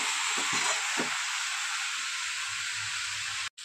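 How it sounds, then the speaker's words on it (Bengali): Rohu fish head and cabbage sauté in hot oil with a continuous close sizzle and hiss, broken by a few soft stirring knocks and a brief dropout near the end. "তো কিছুক্ষণ সময় নিয়ে একটু কষিয়ে নেব।"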